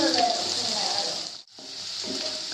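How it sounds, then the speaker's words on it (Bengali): Steady sizzling of onions and spices frying in a pan until browned, with a brief stirring pause in the middle, close up. "ভেজে নিতে হবে মশলাটাকে যতক্ষণ না এই পেঁয়াজের ব্রাউন কালারটা চলে আসছে"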